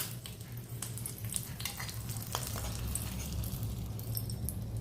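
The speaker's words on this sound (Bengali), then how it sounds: "এই যে মাছের মধ্যে মিশিয়ে নিচ্ছি তেলটা।" Oil is stirred into fish with green chillies in a bowl for Ilish paturi, giving a soft wet mixing sound with faint clinks over a steady low hum, close and quiet, with no talk.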